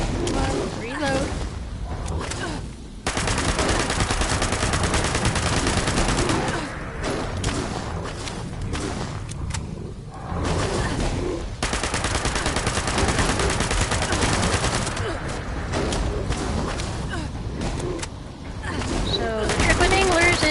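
Heavy bursts of gunfire in Fallout 76 as anglers are shot, rapid sustained volleys filling most of the stretch with brief gaps, loud and close, with a voice speaking in between.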